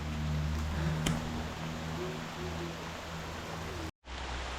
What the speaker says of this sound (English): Rain, go away, come again another day.